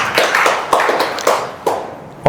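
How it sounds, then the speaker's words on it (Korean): A church congregation claps together at the close of a worship service, a loose burst of hand claps with uneven taps and no talking over it. "예, 박수 치셔도 됩니다."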